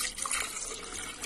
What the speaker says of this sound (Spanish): Ahora en este punto yo voy a agregar acá agua.